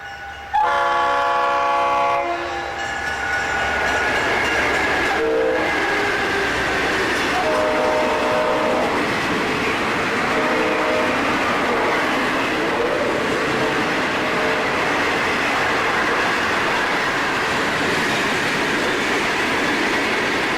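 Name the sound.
Florida East Coast train number 216 rolling through town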